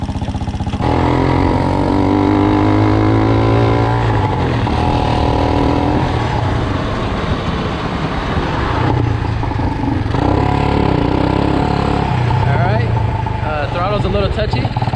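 A small gas engine fitted to a Power Wheels Ford F200 ride-on truck runs and revs unevenly with a buzzy, rising-and-falling drone, loud and close throughout, while a person talks over it.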